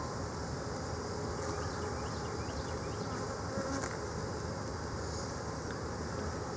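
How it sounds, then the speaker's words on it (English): Dense, steady buzzing of a honey bee colony at an open hive during a beekeeping class, a continuous close drone with individual bees droning past, no talking. "Man, these bees are active."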